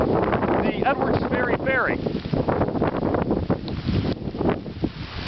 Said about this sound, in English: Today it's being buffeted by heavy wind.